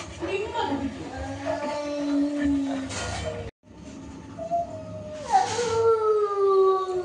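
A dog howls in long, wavering, drawn-out cries, two separate howls with a brief silence between them, fairly loud and close inside a home.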